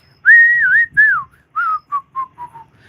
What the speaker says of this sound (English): How do you feel about whistling?